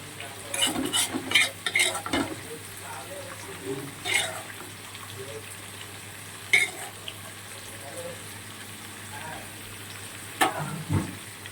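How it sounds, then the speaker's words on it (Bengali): Mustard seeds tempering in hot oil in a frying pan, a soft background sizzle with scattered crackles and spoon stirring or clinks against the pan, fairly quiet and close. "সর্ষে ফোড়ন দিলাম"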